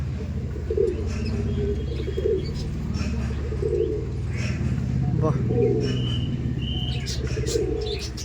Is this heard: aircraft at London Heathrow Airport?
no